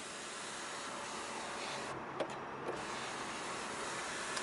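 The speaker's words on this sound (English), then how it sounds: "this car does have the power-assisted tilt and sliding sunroof, so you can either just push it all the way back, just like that." A power sliding sunroof on a 2016 Hyundai Genesis Coupe 3.8 Ultimate retracts with a steady, quiet electric motor whir inside the cabin, marked by a couple of soft clicks midway.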